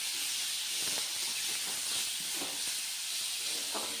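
Peas and tomato sizzle in hot oil in a pan with a steady, bright hiss. Faint pops and crackles come through now and then.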